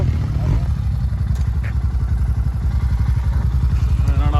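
Motorcycle engines idle and rumble close by as several bikes pull in on a road trip toward Kannur, Kerala, a steady low throb with light clatter.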